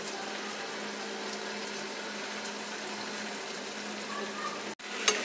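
Cluster beans tipped into a pan of frying potatoes give a steady, soft sizzle and hiss, quiet and even throughout, ending with a brief clatter.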